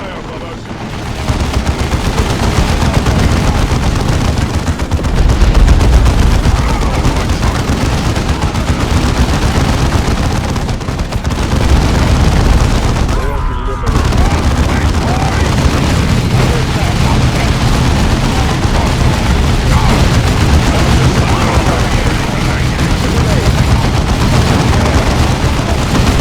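Dense battle gunfire in Warhammer 40,000: Dawn of War II, with sustained loud weapon fire, bursts and booming impacts filling the whole stretch, while voices speak over the din.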